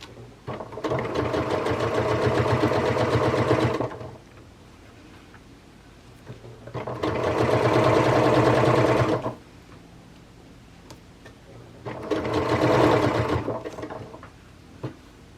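A sewing machine stitches a fabric donut dog toy in three loud, steady bursts of rapid needle rattle, each a few seconds long, separated by quiet pauses.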